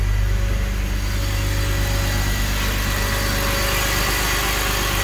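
A BMW M5 E39 engine idling, a steady, loud, even rumble with a low hum and faint mechanical whine, heard close and alone.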